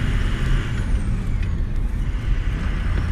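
A vehicle engine accelerates while being diagnosed, a loud continuous rumbling drone with a slight rising whine, heard close with no talking.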